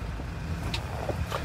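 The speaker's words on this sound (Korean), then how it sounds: "브레이크 떼고 클러치 살들고 출발." A manual car pulls away from a stop on a driving test course, the clutch easing in as a low, steady engine rumble hums close by, fairly quiet, with no one speaking.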